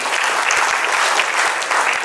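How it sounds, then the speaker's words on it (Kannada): Loud, steady applause from an audience at a birth anniversary function, a dense continuous patter of many hands with no break across the whole stretch. "ನಿಮ್ಮೆಲ್ಲರ ಮತ್ತೊಂದು ಜೋರಾದ ಚಪ್ಪಾಳೆಗಳು"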